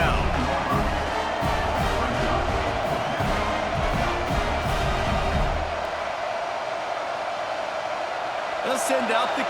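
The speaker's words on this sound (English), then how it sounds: "This crowd trying to do its part to get inside the kicker's head." A video game stadium crowd at a college football game, Ole Miss at Mississippi State, roars in a loud, sustained wash of cheering and noise as the kicker lines up a field goal, with no break in the sound.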